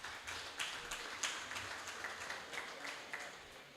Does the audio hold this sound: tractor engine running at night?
no